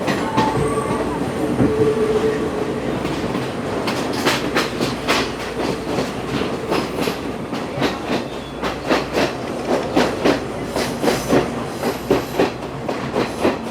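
The Ella Odyssey train runs on rails in Sri Lanka between Ella and Ambewela with a loud, close, continuous rumble. Rhythmic clickety-clack wheel beats grow more distinct as the ride goes on.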